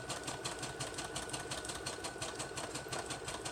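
A sewing machine zigzag stitching around a paper card, a steady fast rhythmic whirring and needle clatter running continuously at close range.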